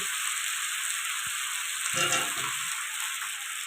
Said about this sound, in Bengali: আলু দেওয়ার পর আরও তিন থেকে চার মিনিট ভালো করে কষিয়ে দেবো